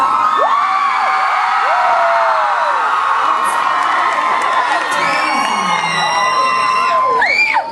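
A concert crowd at a show at the Glass House screams, whoops and cheers in a loud, sustained roar, with piercing high shrieks rising above the din throughout.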